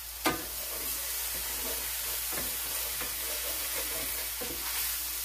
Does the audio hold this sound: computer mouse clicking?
no